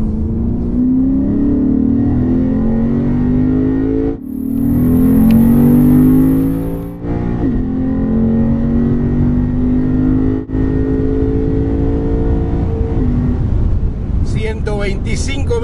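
A 2015 Lexus RC F accelerating on a race track, its engine a loud, steady roar that climbs in pitch with a brief drop around a gear change, with wind and road noise throughout.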